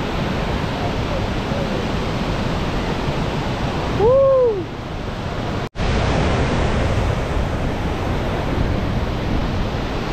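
Mallali Falls waterfall roaring with steady broadband rushing water, loud and constant, with a brief whistle-like tone and a sharp click partway through.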